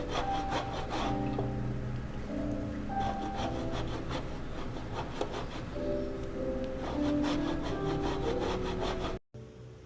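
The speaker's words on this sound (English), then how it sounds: "Something about grating cheese that just takes you to another place, right?" Cheese being grated by hand against a grater, a close rhythmic rasping of repeated strokes with brief pauses, loud and steady until a sudden stop near the end.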